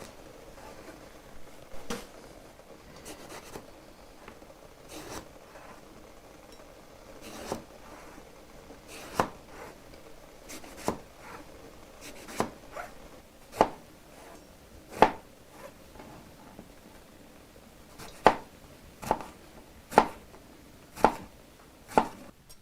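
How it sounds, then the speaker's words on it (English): A knife chops an eggplant into quarter-inch pieces on a cutting board, making a string of crisp single knocks that start sparse and irregular and then come quicker and louder, close up, with no voices. "I like to cut the eggplant into 1/4-inch pieces"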